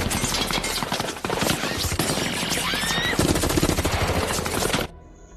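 Heavy gunfire riddling a house in an action film, dense rapid bursts like machine guns and rifles blasting continuously at close range, loud throughout before cutting off abruptly near the end.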